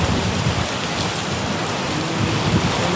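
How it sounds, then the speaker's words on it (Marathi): Heavy rain pours down steadily outdoors, a dense, continuous hiss of drops drumming on surfaces, loud and unbroken throughout. "इकडं बाहेर चालूच होता पाऊस"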